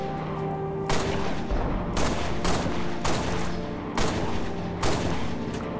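Repeated pistol gunfire from the video game Halo Reach: loud, evenly spaced sharp shots roughly once a second, each ringing out briefly before the next.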